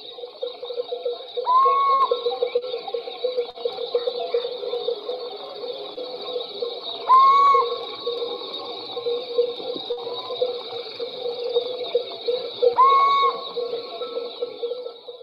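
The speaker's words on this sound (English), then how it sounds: "This is the one that you hear probably this time of the year from Little Owl." Male little owl calling three times at even intervals, each a short rising whistled note standing out clearly over a steady background of insect or other ambient hum.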